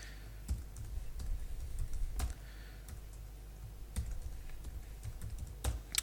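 Password being typed on a computer keyboard, a steady run of close, light key clicks with a few sharper taps spaced through the clip, no voices.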